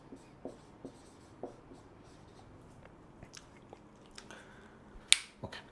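Pen or marker writing an equation on a board or paper, a series of short scratchy strokes and taps close by, fairly quiet, ending with a sharper tap and a few final strokes.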